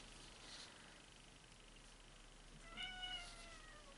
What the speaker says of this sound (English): As you can hear, that is my cat meowing in the background.